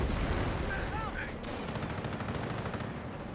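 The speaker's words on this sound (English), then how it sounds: "Our squad here, taking a bit of fire from these Panzer Grenadiers." Burst of rapid gunfire aimed at a squad from Panzer Grenadiers in the game Company of Heroes, dense crackling shots in quick succession with a commentator's voice underneath.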